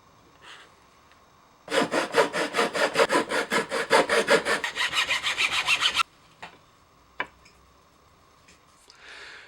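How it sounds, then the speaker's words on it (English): Hand saw cutting away a piece of wood from a cigar box guitar neck, about twenty quick rhythmic rasping strokes close up for four seconds, followed by a few faint clicks and handling knocks. "So I'll have to cut away this piece of material"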